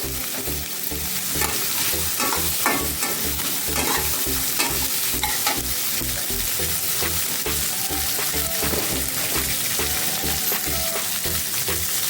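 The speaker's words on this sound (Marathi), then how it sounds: "मटार ही आपण चांगले परतून घेऊया" Fresh green peas being sautéed in a pan, a continuous busy sizzle with rhythmic scraping and stirring strokes throughout, loud and close with no talking.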